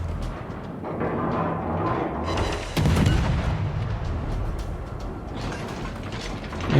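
Naval cruiser guns fire in the World of Warships game, with the tier 1 cruiser Hermelin in battle, heavy rumbling booms over a continuous low engine-like roar, a sharper blast near the middle and another at the end.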